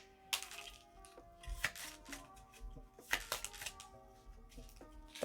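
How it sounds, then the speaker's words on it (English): Playing cards shuffled by hand during a cash-stuffing savings challenge: a close series of quick riffling bursts with sharp snaps and rustles, uneven in rhythm, alone with no talking. "I'm not a great shuffler"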